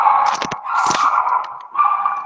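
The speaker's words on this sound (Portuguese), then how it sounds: "Nossa, tem um cachorro." Dog barking and whimpering outdoors, a short run of close yips and barks over a sustained mid-range tone.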